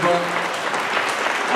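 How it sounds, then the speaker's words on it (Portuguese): Brief burst of congregation applause in a church after a Gospel reading, full and steady, with voices mixed in at the start. "Vamos aplaudir."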